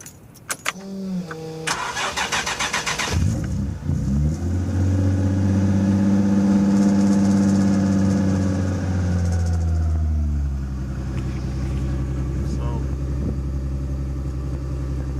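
A Datsun 280Z cranks with a rapid whirring starter, fires and revs up loudly, then holds a steady, fairly high idle that drops lower toward the end. A voice is heard speaking briefly early on.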